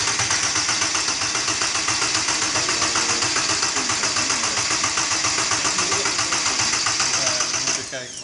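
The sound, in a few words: Donkervoort D8 GTO five-cylinder engine starting for the first time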